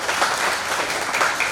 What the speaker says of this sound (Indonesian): Tepuk tangan buat warga masyarakat semua.